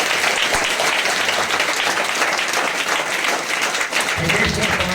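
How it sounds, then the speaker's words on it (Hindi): A church congregation claps steadily together in praise of God, a dense continuous wash of hands filling the room for the whole stretch, with a low hum or musical tone joining near the end. "चला ताली बजाएंगे परमेश्वर को।"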